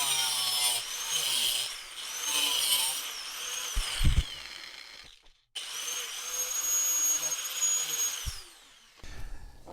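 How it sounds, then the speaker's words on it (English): An abrasive cutoff disc slices through braided lines hung off a bench edge, giving a loud, sustained high-pitched grinding whine in two long runs broken by a brief pause, with some knocks and handling clatter. "the best way to cut these braided lines is to just use a cutoff disc, an abrasive cutoff disc"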